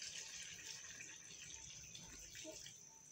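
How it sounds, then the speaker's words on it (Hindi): Half a cup of water poured into a cooking pot of potatoes and eggs frying in spices, a soft hissing gush and trickle, quiet and close. "अब मैं इसके अंदर पानी डाल रही हूँ। पानी इसके अंदर मैं 1/2 कप डाल रही हूँ"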